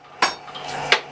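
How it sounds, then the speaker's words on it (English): A power hammer comes down onto a steel kiss plate at a forge, two sharp metallic clanks about three quarters of a second apart, close and ringing. "the hammer can only come down as far as that kiss plate, like this"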